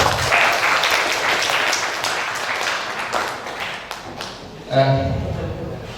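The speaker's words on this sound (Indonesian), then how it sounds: "Kasih aplaus dong" Applause from a school audience of teachers and students at SMK Negeri 3 Bondowoso, a dense, sustained clapping that fills the room and gradually thins out over several seconds.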